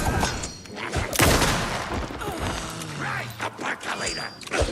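Gunfire from a weapon in the survival horror video game Alan Wake 2, a few sharp loud shots and crashes mixed with game noise and someone talking over it.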